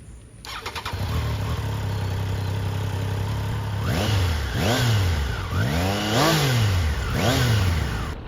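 A Triumph Daytona 660 motorcycle engine starts, idles with a deep bass growl, then revs up sharply several times in quick rising and falling bursts, close and loud.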